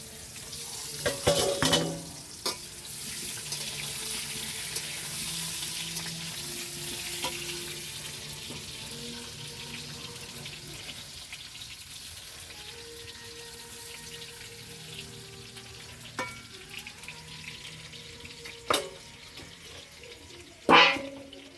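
Potatoes sizzle steadily in a hot pan, with a few sharp clinks and scrapes of a utensil near the start and end. No one speaks.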